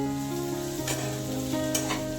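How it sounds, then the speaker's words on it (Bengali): Potatoes fry in a pan with a steady close sizzle, broken by two sharp scrapes of a stirring utensil. No voices. "মানে আলু ভাজছি"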